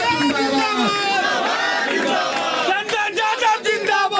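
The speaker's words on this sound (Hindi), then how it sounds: "जोरदार ताली से स्वागत कीजिए।" A large crowd at a political rally roars with cheering, shouting and chanting in a dense, continuous wall of voices, with scattered clap-like bursts toward the end.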